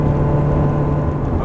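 A Ferrari 360 engine holds a steady 4,500 rpm during an ECU reset, giving a loud, continuous, even drone with no change in pitch.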